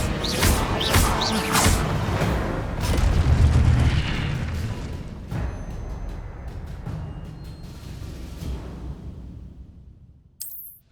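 Incendio fire spell cast in the Hogwarts Legacy video game: a loud, deep whooshing fire burst that booms and crackles, then rumbles and fades over several seconds, ending in a brief sharp burst.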